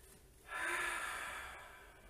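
One brief, breathy exhale through the nose and mouth during a home Pilates workout, close and soft against a quiet background.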